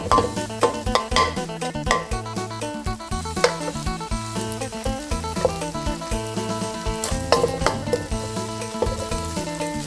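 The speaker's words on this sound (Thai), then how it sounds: "เอามาผัดกับหมู มันสุก" Minced pork stir-fried in a hot pan for Thai basil pork, with steady sizzling broken by repeated scraping and clanking of a spatula against the pan in an uneven rhythm.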